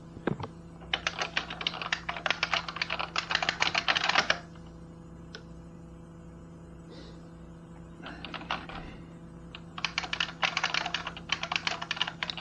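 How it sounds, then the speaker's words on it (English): Fast typing on a computer keyboard, close and crisp, comes in two bursts separated by a quiet pause of several seconds, with a low steady hum underneath. "just typing your paper for you"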